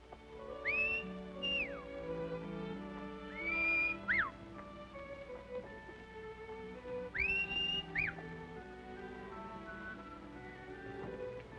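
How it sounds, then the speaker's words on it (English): Clear whistled notes come in three short bursts, each with a rising slide and a quick dip, over a faint background murmur. "I could have sworn I recognized that whistle."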